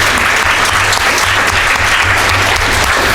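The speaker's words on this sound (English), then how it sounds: "Huge round of applause to him" Enthusiastic applause from a convention panel audience at TFcon Chicago, a dense, steady clapping that fills the room and holds at full strength throughout.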